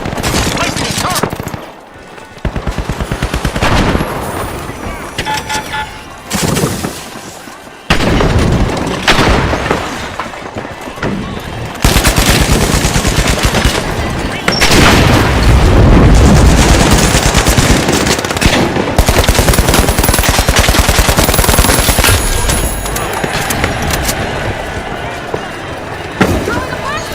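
Rapid, loud automatic turret fire in a video game, sustained bursts almost without pause across the whole stretch, mixed with explosions and layered game effects while voices talk over it.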